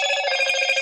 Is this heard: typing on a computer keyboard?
no